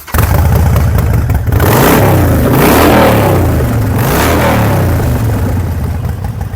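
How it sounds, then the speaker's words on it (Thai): A Harley-Davidson Sportster 48 with Vance & Hines Shortshots exhaust, revved hard and close, its loud, deep, rumbling engine note rising and falling through repeated throttle blips without a pause. "มาฟังเสียงท่อแวนแอนไฮช็อตช็อตหน่อย"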